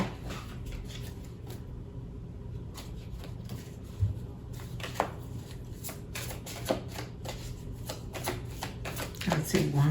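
Tarot cards shuffled by hand in a quiet room, a soft, steady riffling and rustling with occasional sharper taps and slaps, close and fairly faint, growing busier near the end.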